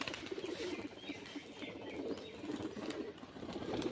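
A female pigeon coos and shifts faintly in a coop, soft bird calls and light rustling under a quiet background hiss.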